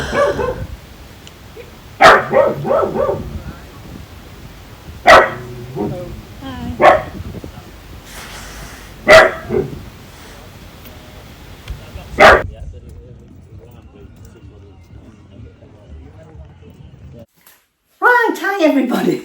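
Peggy the dog barks in several sharp, separate bursts spread through the stretch, close and loud, with quieter whimpering and household noise in between and a brief yip near the end.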